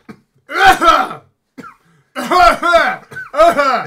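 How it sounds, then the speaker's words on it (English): Several harsh coughing bursts from a person at a haunted house attraction, in three separated clusters, loud and close. "It's actually making me cough."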